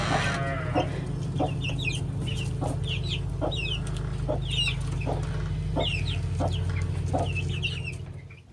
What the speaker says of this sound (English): let's go see the baby chicks and the baby guinea keets